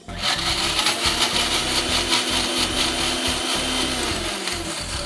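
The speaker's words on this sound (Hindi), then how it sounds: "इसको आपने मिक्सी में पीस लेना है।" An electric mixer grinder runs loud and steady, grinding roasted tomatoes and garlic into a chutney without added water. It gives a continuous whirring roar with a rattling, gritty texture from the chunks inside the jar.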